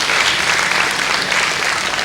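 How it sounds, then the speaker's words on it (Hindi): Crowd applause welcoming the winning team of a football tournament at a Birsa Munda anniversary ceremony in Andaman: loud, dense, close clapping sustained for two seconds, with no talk over it. "तो जोरदार तालियों द्वारा और एक बार स्वागत कीजिए"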